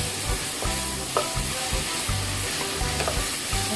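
Pickled mustard greens and egg being stir-fried in a pan, with a steady sizzle and repeated scraping strokes of the spatula at a brisk rhythm, close and fairly loud, with no talking.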